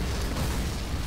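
Battle explosions in the World War II shooter Call of Duty: United Offensive, a dense, continuous roar of blasts and rumble, loud and sustained with no clear gaps.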